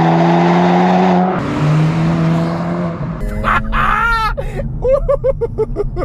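A 2024 Acura Integra Type S makes a loud, sustained engine drone as it launches with launch control, with the pitch stepping through the revs before climbing sweeps come in. There is no talking.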